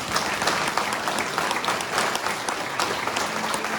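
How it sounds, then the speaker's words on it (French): At the January 2024 New Year's greetings ceremony in Saint-Mammès, a hall audience gives the elected officials loud, continuous applause, many hands clapping evenly throughout with no pause. "Vous pouvez les applaudir."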